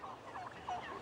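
Several turkeys gobble in short warbling bursts, fairly faint and somewhat distant, with no voices over them.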